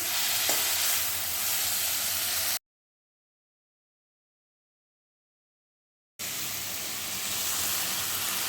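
Vegetables fry lightly in a pan with a steady close sizzle and hiss, broken by a few seconds of total silence before the sizzling resumes; no one speaks.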